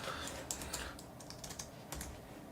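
Rapid, light clicking of keys on a computer keyboard as text is typed into an online ad tool, heard close and fairly quiet with no voices.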